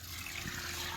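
Water rushes steadily through a venturi injector on a farm irrigation line, a close, continuous broadband hiss with no breaks.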